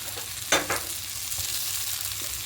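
A spoon scrapes and stirs an oats tikki mixture with salt, black pepper and chopped coriander leaves in a bowl. It gives a couple of short, close scrapes and then a soft background hiss.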